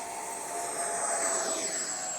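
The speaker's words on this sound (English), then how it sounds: "And he's taking off with takeoff flaps." An FMS Futura v3 80mm electric ducted fan RC jet takes off with flaps set on its maiden day, its high, steady turbine-like whine holding loud and close with a gently shifting pitch.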